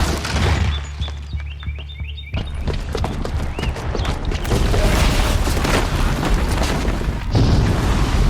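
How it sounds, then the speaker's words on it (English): In Horizon Zero Dawn a booby-trapped bomb goes off with a loud, deep boom after a quieter moment, followed by sustained rumbling and crashing debris. "the booby trap on the bomb downstairs is gonna get set off"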